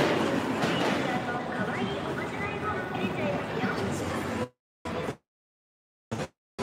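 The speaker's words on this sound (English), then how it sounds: "It was the train." A train passes at night in Akihabara, Tokyo, giving a loud, steady rumble for about four and a half seconds before it cuts to near silence broken by short bursts of noise.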